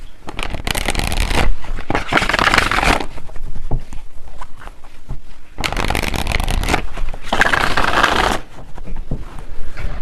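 Tarot cards are shuffled and drawn by hand in several close bursts of crisp riffling and flicking, separated by quieter pauses, with no talking.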